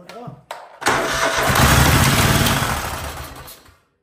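A Craftsman garden tractor's 26HP Kohler engine, primed with fuel down the intake, cranks in two short attempts and then catches, roaring loudly and close for a few seconds before cutting off.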